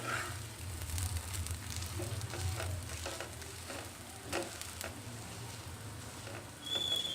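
A sweet wheat flour dosa sizzles steadily in a hot pan, a soft continuous frying hiss with faint crackles and no voices.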